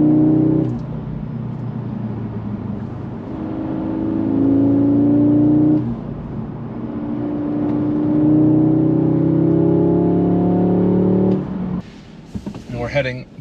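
A 2022 Audi S3 accelerates along a Colorado mountain road, its engine pulling in rising sweeps broken by quick gear shifts, loud and steady in the cabin until it drops away near the end.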